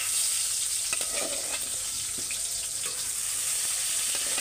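Sweet potatoes seasoned with chili and spice fry in hot oil, giving a steady, dense sizzle with occasional light pops and crackles that run continuously and alone throughout.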